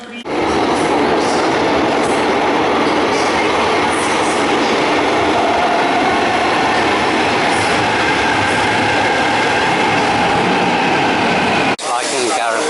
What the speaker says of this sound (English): catch the commuter train to Pompeii